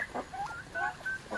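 Backyard chickens, including a white hen, cluck in a pen: short, soft, repeated clucks and murmurs from several birds close by, with no voices over them.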